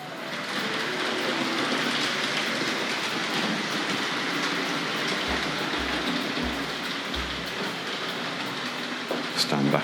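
A Hornby model steam locomotive, the Battle of Britain class "Spitfire" R.374, runs along its track with a steady, continuous rolling rumble and a few rhythmic clicks of wheels over rail joints near the end.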